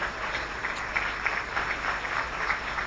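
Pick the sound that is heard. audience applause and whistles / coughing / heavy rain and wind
audience applause and whistles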